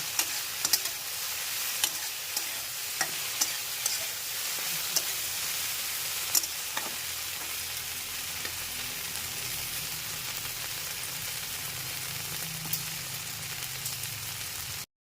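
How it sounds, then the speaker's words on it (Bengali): Okra (bhindi) for bhindi posto frying over raised heat in a pan and being stirred: a steady, close sizzle runs throughout, broken by scattered scrapes and taps of the spoon, with no talking. "গ্যাসটাকে বাড়িয়ে দিয়ে এখন একটু ভাজা ভাজা করতে হবে"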